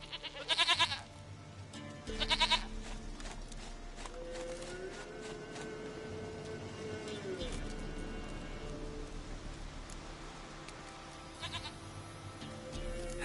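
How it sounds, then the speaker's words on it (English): In The Witcher 3, a goat bleats several times near the start and again later, short wavering calls over steady rain and ambient game sound, while a character speaks in between. "Goat of mine, dearest, sweetest goat."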